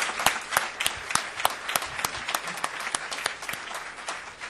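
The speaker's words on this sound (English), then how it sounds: "I'm going to ask you to clap them, but I'm also going to ask you to clap yourselves" An audience at a panel discussion applauding the speakers, with dense, sustained clapping from many hands throughout.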